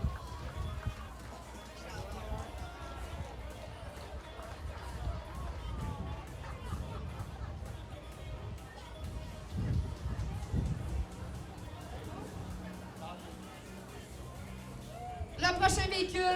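Fan club cheering and applauding outdoors as graduates arrive by car at a school ball, a lively crowd murmur with scattered shouts, a commentator talking over it and a louder burst near the end.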